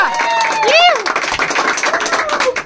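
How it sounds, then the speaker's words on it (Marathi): Friends clapping at a birthday celebration, a burst of quick, close claps mixed with voices talking and shouting over them. "टाळ्या टाळ्या"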